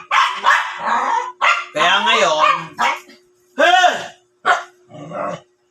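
A dog barks repeatedly in sharp, loud bursts with brief gaps between them, mixed with a person talking nearby.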